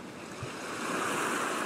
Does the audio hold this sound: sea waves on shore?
yes